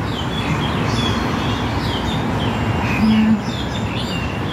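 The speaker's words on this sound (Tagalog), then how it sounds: "Maraming ibon. Naririnig nyo ba yung huni ng ibon?" Scattered high bird chirps and tweets over a steady broadband background hum, fairly faint and continuous with no talking.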